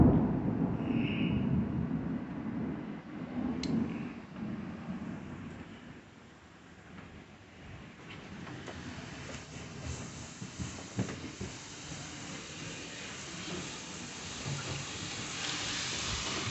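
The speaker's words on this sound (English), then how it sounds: "the rain is terribly heavy" Heavy thunderstorm rain during a tornado watch, a continuous wash of downpour with low rumbling and occasional sharp spatters, moderately quiet and steady over the whole stretch.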